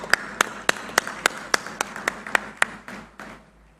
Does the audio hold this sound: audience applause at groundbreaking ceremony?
yes